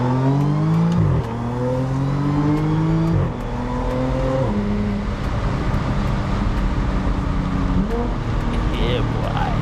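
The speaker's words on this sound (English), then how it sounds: "the sweet sound of a supercharged V6 Audi S4" Supercharged V6 Audi S4 accelerating hard in a full-throttle pull, its engine note climbing through several gears with brief dips at each shift. The sound is loud, close and continuous.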